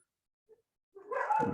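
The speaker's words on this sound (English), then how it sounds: "I cannot have these dogs barking in the background like this." Dogs barking in the background, a short faint yip at first and then a louder burst of barking and yelping toward the end.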